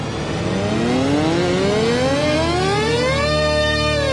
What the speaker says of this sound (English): You harmonize this and you can do the THX sound.